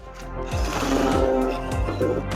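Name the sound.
DeWalt cordless chainsaw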